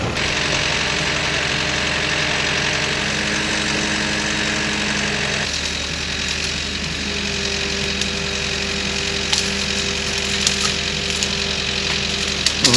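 A tractor engine runs steadily at idle nearby in a rural village, a loud continuous diesel drone with a rhythmic knocking pulse. Partway through, the pitch and load shift slightly, with faint clanks on top.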